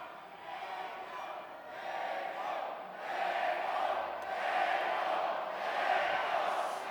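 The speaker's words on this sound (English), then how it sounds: "I hope y'all watching at home can hear the crowd right now." Crowd at a live boxing fight night roaring and cheering continuously, the broad wash swelling gradually louder across the stretch, with a commentator talking over it.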